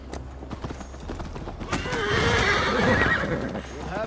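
A horse neighs loudly and hooves clip-clop steadily while riding in Assassin's Creed Valhalla. The hooves run throughout, and a long whinny swells in the middle. A voice speaks over the start.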